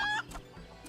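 Chickens in the Final Fantasy XIV video game give a short, fairly faint cluck at the start, followed by softer background game sounds.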